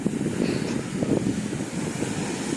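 Rough sea on the beach at Gelendzhik, a steady rumbling roar of waves and gusting wind buffeting the microphone, continuous and fairly loud with no talk.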